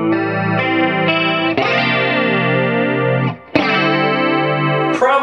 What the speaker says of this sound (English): Okay, so what's next? The Electric Mistress.